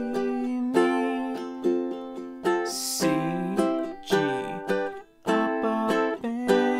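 Strummed ukulele chords from the bridge of a song, played alone at moderate volume with steady rhythmic strokes and chord changes, a brief brighter scrape partway through.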